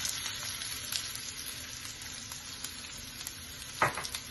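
Chopped onion sizzles and crackles steadily in hot oil, close up, with a few louder pops and a stirring clatter near the end.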